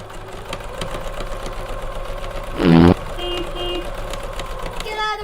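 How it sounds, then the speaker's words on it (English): A mechanical whir of a sewing machine mounted on a bicycle, revving like a small motorcycle engine, with a louder burst midway and a steady humming drone around it. "the sewing machine makes your bike sound like a motorcycle"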